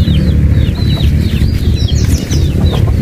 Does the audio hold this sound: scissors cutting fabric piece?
no